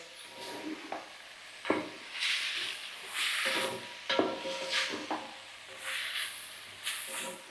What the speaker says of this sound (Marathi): आणि हे बटाट मटकी आणि बटाटा आपल्याला ह्या कांदे आणि टोमॅटोमध्ये मसाल्यामध्ये चांगलं असं परतवून घ्यायचं आहे